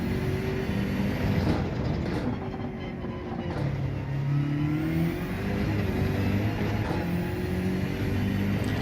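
A BMW M6 Gr.3 race car in Gran Turismo 7 drones loudly and steadily, its engine note rising and falling through gear changes on a continuous run.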